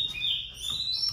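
A male laughingthrush calls with a clear high whistling song, sustained and fairly close, over a faint rustling outdoor background.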